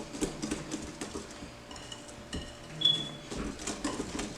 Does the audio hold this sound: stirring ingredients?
yes